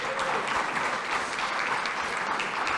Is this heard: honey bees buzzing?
no